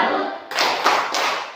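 A group bursts into short claps in a classroom discussion session, a few quick rounds of hand clapping close by and fairly loud.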